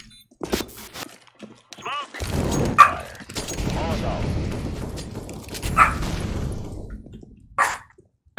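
A dog in the room gives a few short, fairly quiet barks while players chat over a team video game match.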